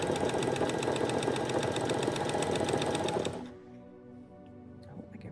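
Sewing machine back stitching across a seam in sweatshirt fabric, a rapid loud mechanical whirr of needle strokes that cuts off abruptly after about three seconds, leaving faint handling noises.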